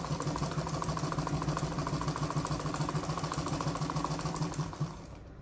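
A sewing machine runs a loose top stitch along a button-down strap dress with pockets, its steady, rapid mechanical chatter continuing without pause before easing off near the end.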